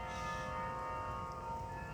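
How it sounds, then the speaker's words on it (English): Stationary carillon bells at Bok Tower, struck from inside by clappers, ring with sustained, layered tones that hang in the air, distant and faint against a low background rumble. "it essentially beats against the bell, and that's what produces the sound that you're hearing right now."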